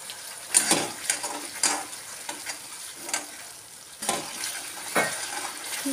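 Grated coconut is stirred and sautéed in a pan of jackfruit and potato curry. A soft sizzle of frying runs under repeated scraping and clinking strokes of a spatula against the pan, close by, with no talk.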